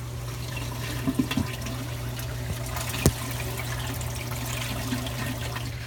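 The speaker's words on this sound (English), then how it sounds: "A protein skimmer works by bubbling the water up from a motor, and there's thousands of bubbles, as you can see." A protein skimmer motor churning bubbles through saltwater aquarium water, a steady close watery rush with a low motor hum and occasional faint clicks, no talk.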